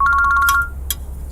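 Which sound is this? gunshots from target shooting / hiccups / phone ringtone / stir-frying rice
phone ringtone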